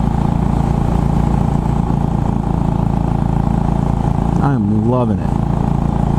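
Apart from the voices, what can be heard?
Royal Enfield Bullet 500 motorcycle riding on open road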